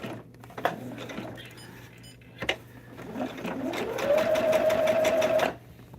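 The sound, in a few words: sewing machine basting quilt fabric to foundation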